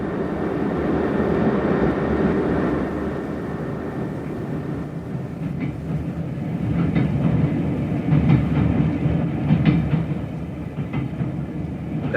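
A train runs steadily along the rails with a continuous rumble and faint clickety-clack, moderately loud and unbroken, with no voices.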